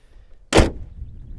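A single solid thunk as the door of a Mercedes C63 AMG Black Series is shut, close and short with a low, dull body and a quiet settle afterward.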